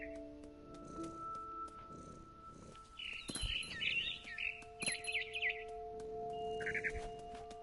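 Bird chirps in the video game What Remains of Edith Finch, short bright calls in small clusters over steady tonal game ambience and music.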